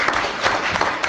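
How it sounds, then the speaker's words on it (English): A crowd of parents and players at a youth recreation sports gathering clapping, a close, lively burst of many hands with uneven peaks throughout. "I'd like to see the parents give you guys and your kids a great round of applause out there."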